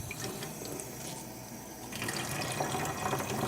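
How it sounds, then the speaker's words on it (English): Water runs from a tap into a container for a budgie's bath, a steady close splashing stream that grows fuller and louder partway through, with no talking. "let's just put it right under the tap. And then you fill it up"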